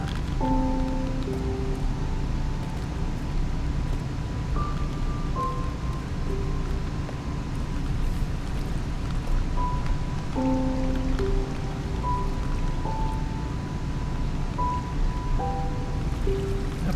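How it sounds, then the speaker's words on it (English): A small waterfall in Minecraft pours down beside a floating sky island, giving a steady, even rush of water throughout, with soft musical notes from the game playing quietly over it. "So we've got a little waterfall that goes down."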